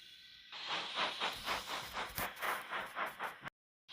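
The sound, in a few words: steam locomotive puffing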